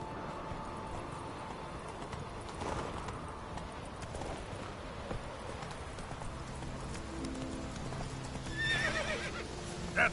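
In a video game, a horse gallops with steady clip-clopping hooves, and a whinny sounds near the end; the effects are fairly quiet against a busy game background.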